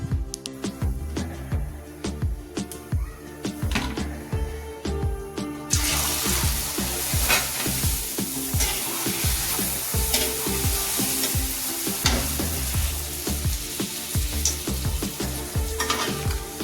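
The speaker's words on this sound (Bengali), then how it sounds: "এগুলো ভেজে নিই ফার্স্ট কাটিংয়ে, তারপরে ওগুলো ভাজবো।" Luchi, puffed flatbreads, deep-fry in hot oil with a loud continuous sizzle, broken by frequent close clinks and scrapes of a utensil that sharpen and thicken partway through.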